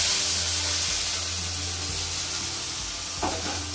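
Potatoes hit hot oil seasoned with whole cumin seeds, setting off a loud, dense, continuous sizzle that eases slightly over a few seconds, with faint clicks of stirring near the end.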